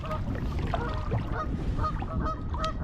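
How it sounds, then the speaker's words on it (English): Several geese honk repeatedly at a lakeside campsite on an island in a Scottish loch, loud overlapping calls close by over a steady outdoor background. "there's a couple of geese that have claimed it before me"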